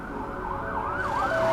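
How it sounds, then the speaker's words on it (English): An ambulance siren wails in rising and falling sweeps, with a steady tone near the end, heard over road noise from a moving vehicle. "As the ambulance crew prepare to take Mitchell to hospital, Kerry updates control."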